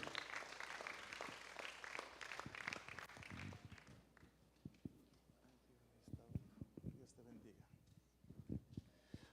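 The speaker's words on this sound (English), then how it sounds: "Let's give a round of applause to Pastor Bernabe Russell" An audience at an evening church healing and salvation service applauds as a pastor is called up; loud clapping in the first seconds thins into scattered claps and shuffling footsteps, with sporadic sharper claps toward the end.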